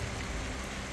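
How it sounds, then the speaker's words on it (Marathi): Light drizzling rain falling during an unseasonal thunderstorm in Dharashiv, a steady soft hiss of raindrops on surfaces, even and continuous throughout with no voices. "धाराशिवमध्ये विजांच्या कडकडाटासह रिमझिम पाऊस"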